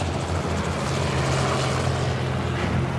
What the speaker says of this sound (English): The helicopter's going to go and find the next giraffe just so it can be ready.